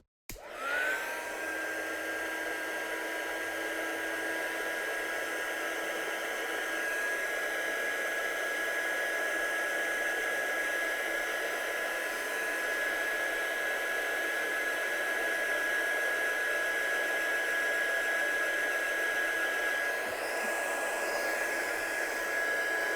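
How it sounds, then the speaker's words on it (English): A heat gun blasts a continuous, even whoosh with a high steady whine while drying a stamped watercolour card, running loud and unbroken for the whole stretch. "I'm just going to give that a blast with my heat gun just to make sure it's dried"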